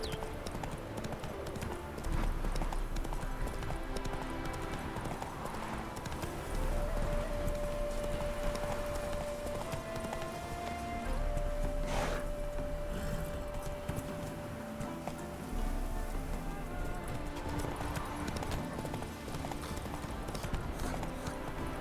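Roach, the horse in The Witcher 3, gallops on and on with a steady rapid clip-clop of hooves, joined by a droning background score and a short voice partway through.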